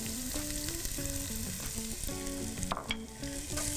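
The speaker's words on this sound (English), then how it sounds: "Saute for a minute" Garlic and half an onion sautéing in a couple tablespoons of olive oil make a soft, even sizzle beneath a light melodic music track.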